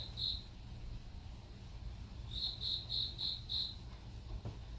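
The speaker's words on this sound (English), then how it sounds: "Those crickets are getting on my nerves." A cricket chirps in quick pulsed trills, one short burst then a run of five, over a faint low background hum.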